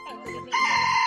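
Chickens at a mini zoo in Bang Pla Ma, Thailand, with a loud squawking call or crow in the second half after softer clucking, close by, with no speech.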